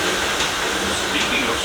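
The Disneyland Railroad train runs on a very rainy day at Disneyland, a steady rumbling, rattling ride heard close from aboard, continuous and loud throughout.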